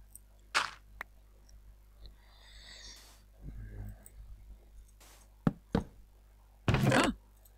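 Scattered sharp wooden knocks and clicks while crafting a chest in Minecraft, several isolated hits spread over a few seconds with a short creaky rattle between them, fairly quiet and without talk.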